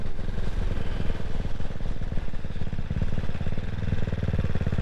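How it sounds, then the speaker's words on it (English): Single-cylinder CCM Spitfire Six motorcycle engine thrumming steadily while riding, a loud, close, rapid pulsing beat with mechanical clatter that holds even throughout, no voices. "Just pure raw motorcycle riding."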